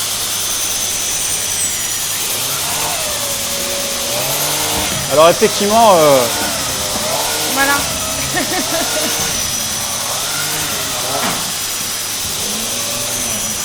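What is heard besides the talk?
Dyson DC52 vacuum cleaner running loudly with brush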